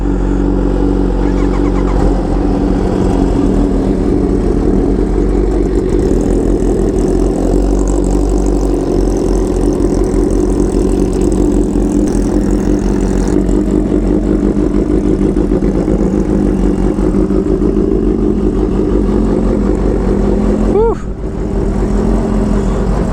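A Kawasaki Ninja H2R motorcycle engine idles while warming up: a loud, steady, close-up rumble that runs unbroken, with only a slight dip near the end.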